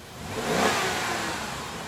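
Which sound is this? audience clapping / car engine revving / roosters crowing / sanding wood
car engine revving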